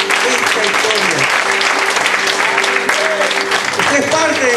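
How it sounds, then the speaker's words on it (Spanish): A church congregation at a night vigil gives a loud, sustained round of applause, with a voice speaking over the clapping throughout. "denle un fuerte aplauso a Dios"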